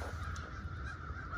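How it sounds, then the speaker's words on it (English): Crows caw repeatedly outdoors at a yard of old, abandoned golf carts, harsh calls blending into a continuous noisy din of birds at moderate distance. "jeez, those crows are going to town."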